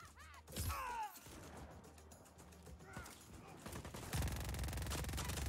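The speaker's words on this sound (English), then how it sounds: "Got the SMG on me." Submachine gun fire in Just Cause 4 rattles amid chaotic game effects, building into a denser rapid burst near the end, fairly faint overall.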